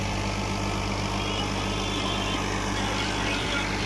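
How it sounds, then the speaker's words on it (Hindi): A New Holland 55 HP tractor pulling a rotavator in a field gives off a steady, low engine drone with an even hum that holds at moderate loudness throughout. "इधर आवाज ठीक आती है ट्रैक्टर की"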